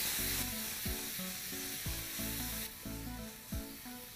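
Vegetables sizzling on a hot grill pan, stirred by hand, with steady frying hiss and about eight sharp scraping strokes of a utensil against the pan at a regular pace, close up.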